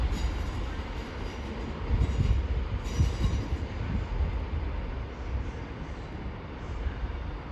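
Train pulling into Cardiff Central station, a steady rumble of wheels on rail with faint squeals and clatter, heard from the platform at moderate distance, continuous throughout.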